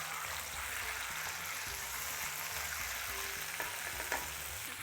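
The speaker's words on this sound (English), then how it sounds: "Let's cook out the ginger and garlic paste." Frozen ginger and garlic paste fries in a pan for a Madras curry, giving a steady close sizzle with faint scraping and stirring throughout.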